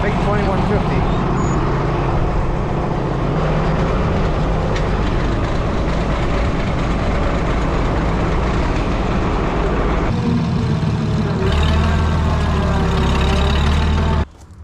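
An Oliver 88 tractor pulls to start a big Oliver 2150 tractor, a loud, steady engine rumble running close up throughout, with voices talking over it. The pitch shifts near the end before it cuts off abruptly.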